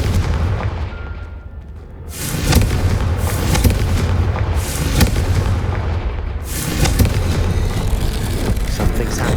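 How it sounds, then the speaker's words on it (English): A Confringo spell explosion in Hogwarts Legacy on PS5 erupts as two heavy blasts, each followed by a long crackling rumble; loud and close, with no voices. "Confringo."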